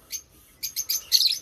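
Parrots chirping in a Pakistani village, a few short bright tweets followed by a denser run of overlapping chirps, fairly close and alone without talk.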